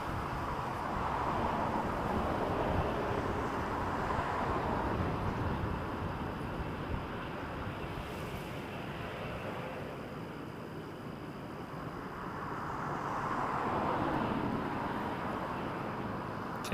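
A UPS MD-11 jet departing from an airport, a broad, distant roar that swells, eases off in the middle, then builds again, steady and unbroken with no speech.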